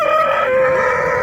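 A rooster crows at the Besh Bola poultry market in Fergana, one loud drawn-out call close by, sliding downward over a faint crowd murmur.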